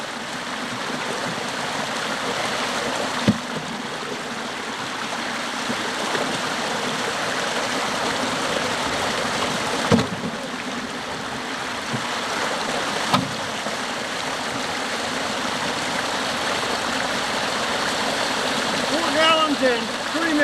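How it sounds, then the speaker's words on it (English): Borehole water pours into the Judy Tributary stream near refuse piles, a constant, broad rushing flow heard close and steady for the whole stretch, with a few faint knocks and no talk. "This is the borehole flowing into Judy Tributary on February 14th, 1998."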